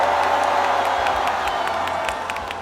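A dense crowd at a political rally in Korea roars and cheers in a sustained, loud wash of voices with scattered whoops and some clapping, heard from within the gathering.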